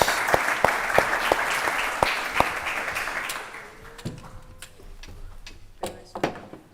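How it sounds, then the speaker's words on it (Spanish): Audience applause for a speaker at a conference, opening with a burst of claps that thins out to scattered individual claps, with a faint voice over it. "un aplauso para él"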